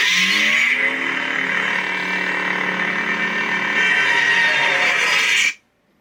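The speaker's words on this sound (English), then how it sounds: "It's got a really slow retraction and ignition. And it matches up with the sound font." Proffieboard-equipped Saberforge Heretic lightsaber with a neopixel silver blade running a Cornhorn sound font with slow ignition and retraction: a loud, sustained electronic whooshing hum that swells in, holds steady, then cuts off abruptly near the end.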